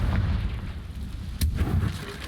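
A Confringo fire spell detonates in Hogwarts Legacy: one sharp booming blast cuts through a low, rumbling game soundscape, then the rumble carries on.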